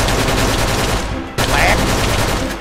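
Dense, loud rapid-fire gunfire mowing down a horde of zombies attacking a house in a video game, continuous automatic shots with a brief break before resuming.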